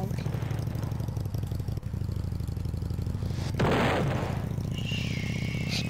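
A golden moped engine in the Roblox game Donut Tycoon drones steadily at mid volume for several seconds, with a brief brighter burst partway through and faint voices now and then.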